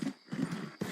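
A horse in a video game snorts and huffs in short close bursts, three breathy puffs over about a second.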